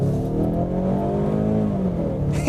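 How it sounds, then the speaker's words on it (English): A Ford Mustang's 2.3-liter turbocharged four-cylinder EcoBoost engine at full throttle, a loud, steady buzzing drone whose pitch climbs gradually as it pulls hard, heard up close with no talking. "It sounds so goofy, flooring this thing and hearing that angry four-cylinder."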